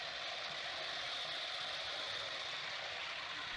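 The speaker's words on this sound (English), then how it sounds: "The grinder's multiple rotating heads evenly abrade the surface, cutting through high spots and exposing the embedded terrazzo aggregate." Lightweight handheld planetary grinder with multiple rotating heads abrading a terrazzo surface, a steady, fairly faint mechanical whir and grinding hum that holds constant throughout.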